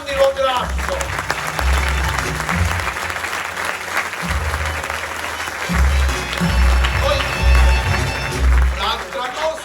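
Theatre audience at a Sicilian dialect comedy performance breaks into loud sustained applause, dense clapping filling the room with deep thumping booms underneath throughout.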